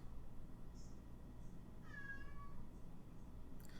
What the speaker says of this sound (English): My cat really wants to go on a walk. You can hear her.